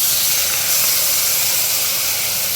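Small tangra catfish fry in a pan as coriander leaf paste mixed with water goes in, giving a loud, continuous sizzling hiss that holds steady from start to end.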